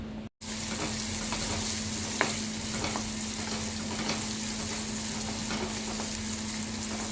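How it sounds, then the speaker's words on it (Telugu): Onions and green chillies frying in oil in a kadai for street-style egg masala Maggi, a loud continuous close sizzle with occasional stirring clinks after a brief cut at the start, no talking. "ఇప్పుడు ఆనియన్స్ పచ్చిమిర్చి వేసుకుందాం"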